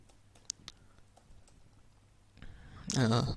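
Brief light keyboard clicks as code is typed on a computer keyboard, faint and scattered, followed by someone speaking over the end.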